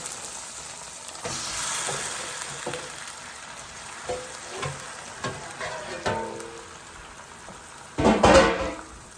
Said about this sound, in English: After 2 minutes, I'm going to drop the oxtails off in the onions and minced garlic.